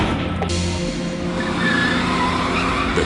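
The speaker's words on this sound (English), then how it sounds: "The car then speeds away into the night." A car speeds away from a parking deck at night with its tires skidding, a loud continuous engine-and-tire roar holding steady throughout.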